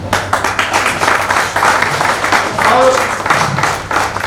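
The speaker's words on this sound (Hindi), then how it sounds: "बहुत जोरदार तालियां हैं" Loud, sustained applause and clapping from a crowd at a stage celebration honouring Mr. Mujibur Rahman, a dense, steady wash of claps with a voice speaking over it.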